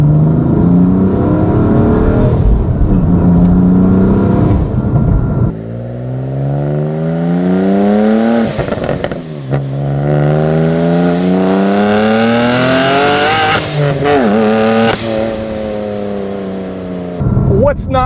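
A modified 650-horsepower 2016 BMW M3 revs hard, its engine note climbing and falling in repeated loud sweeps with sharp blips between, close and dominant throughout.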